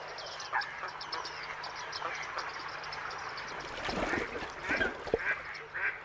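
Water birds call repeatedly from a reed bed where they nest, a scattered chorus of honks and quacks at moderate distance over steady background noise, growing busier toward the end.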